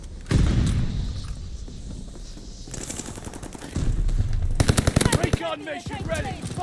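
Bursts of automatic gunfire from Call of Duty: Vanguard, a World War II shooter: rapid clattering volleys and heavy booms that come and go, loud and close, amid battle noise.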